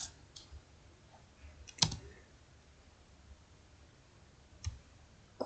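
Light typing on a computer keyboard while entering an SQL query: a few sparse, faint clicks spread out over quiet room tone, with no voices.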